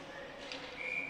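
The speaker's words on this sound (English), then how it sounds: "now we get a whistle with the puck out of play" Referee's whistle blowing during an ACHA men's college ice hockey game between Hofstra and Stony Brook, a thin sustained tone rising late over steady rink ambience, moderately distant.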